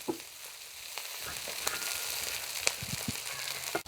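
Chicken pieces frying in hot oil for a curry, a continuous close sizzle with scattered crackles and pops, and no talking.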